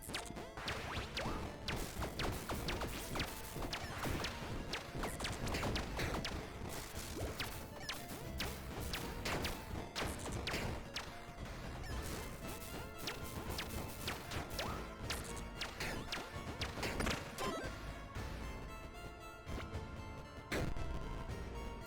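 Dense, continuous crashes and smashing impacts from bombing a health fountain in the pixel roguelike Tiny Rogues, a loud, busy barrage of thuds and whooshes running without pause.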